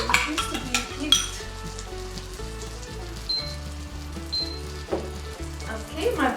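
Butter sizzles and crackles in a hot pan before the eggs go in for an omelette. Soft background music plays, with a few faint utensil clinks over the steady frying.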